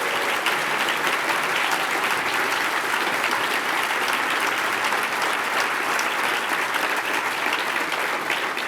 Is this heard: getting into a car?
no